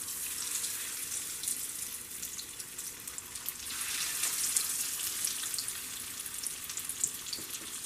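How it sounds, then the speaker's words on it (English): Breaded pork chops fry in a heated skillet, giving a steady, crackling sizzle with scattered pops, fairly close and unbroken throughout. "We're going to take our breaded pork chops and stick them in the heated skillet."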